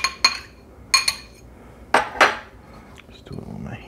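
Sausage ingredients being mixed by hand in a bowl, with several sharp clinks and knocks in clustered pairs, close and fairly loud, then a softer rustling at the end.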